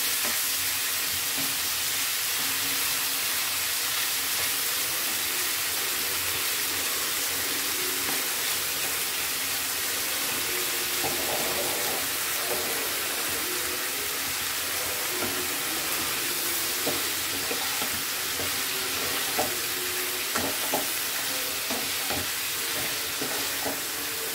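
Prawns and Malabar spinach fry for curry with a strong, continuous sizzle, near and loud, with scattered crackles and stirring scrapes in the second half and no talking.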